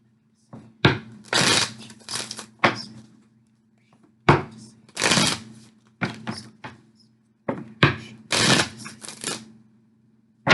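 Tarot cards are shuffled in repeated riffling bursts, each a short flurry of papery clatter followed by soft taps and pauses, close and fairly loud with no talking.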